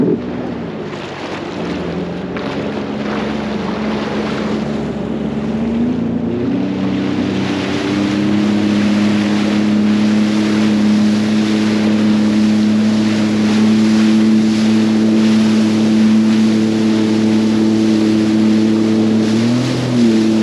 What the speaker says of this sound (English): Now she's accelerating. Look at the wake it's now creating.